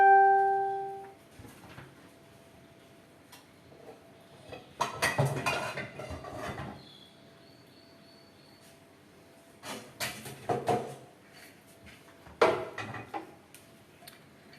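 Stainless steel and carbon steel pans are handled and set down in a quiet room, producing a few separate bursts of metallic clanks and scraping knocks, with quiet gaps between them.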